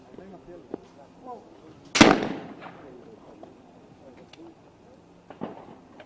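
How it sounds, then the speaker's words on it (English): A single loud shotgun test shot on a trap shooting range before a mixed team medal match, a sharp crack with a short ringing tail, followed by quieter background chatter and a faint later pop. "some test fire before the medal match"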